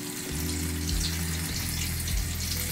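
Soosiyam, a Sri Lankan sweet, fries in hot oil as a steady, close bubbling hiss that continues without a break, with no voices.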